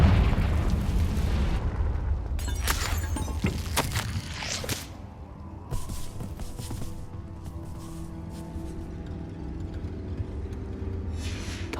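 Blasting-curse explosions in the Hogwarts Legacy video game: a run of sharp booming bursts and crackles over a low rumble, loudest early on before settling into a quieter rumbling tail.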